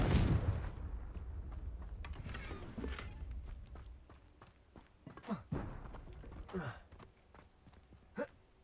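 In Hogwarts Legacy, the Confringo fire spell is cast amid combat, producing several sharp, quiet blasts and whooshing bursts spaced irregularly over low rumbling game ambience.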